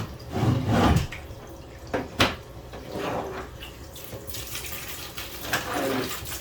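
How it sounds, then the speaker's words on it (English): Bioball filter media from an Aquatop canister filter rinsed in aquarium tank water, with close splashing and sloshing in uneven bursts and short pauses between them. "Below that is just some bioball type media, and we'll rinse that out in our tank water."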